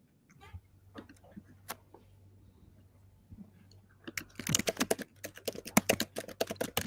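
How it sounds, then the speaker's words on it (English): Someone types on a computer keyboard, scattered light clicks at first, then a dense, faster burst of keystrokes toward the end over a faint steady hum. "I can hear him typing."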